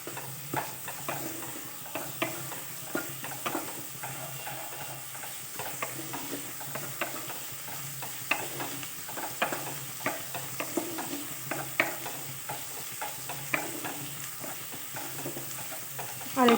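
Grated onion and a little tomato frying in oil with fried pabda fish crackle steadily while a utensil stirs and scrapes the pan in a repeated rhythm.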